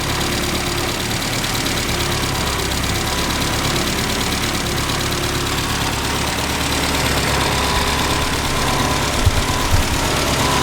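A 1071 S Classic Mini engine idles roughly while running on only one of its carburettors, a steady close mechanical drone with faint knocking throughout and no talking.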